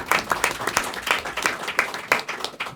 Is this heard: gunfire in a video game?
no